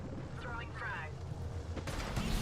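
A frag grenade bursts in the battle royale game Apex Legends: a sharp, broad blast arrives near the end, following a player's voice and other game noise.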